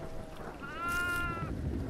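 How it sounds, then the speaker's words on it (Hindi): A single goat bleat sounds in a video game, rising mid-clip as a wavering, nasal cry that lasts under a second over a steady background hum of game ambience. "बकरी की आवाज बकरी की आवाज सब से आ रही है ब्रो"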